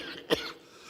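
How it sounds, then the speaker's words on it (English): A single short cough, faint and isolated against quiet background. "How long have you had that cough?"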